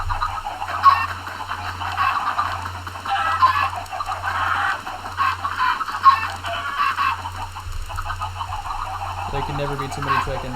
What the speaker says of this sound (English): There can never be too many chickens.